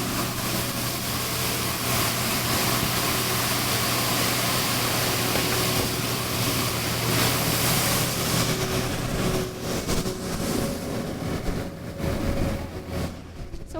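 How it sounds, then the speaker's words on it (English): A Roman street sweeper works across Campo dei Fiori, a steady mechanical rumble and whir filling the busy square, loud and continuous, with the broadband brush noise growing rougher and more uneven toward the end. "So what you just heard was a Roman street sweeper."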